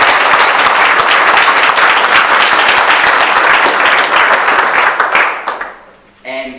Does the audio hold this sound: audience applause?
yes